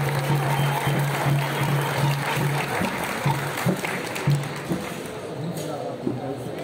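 Applause from the audience at a capoeira batizado and grading ceremony, steady clapping with a droning hum underneath and someone speaking over it.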